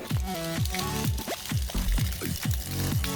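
Water pours quickly into drinking water tanks inside a camper van, a close, continuous gush with repeated glugging surges and rising tones as the containers fill.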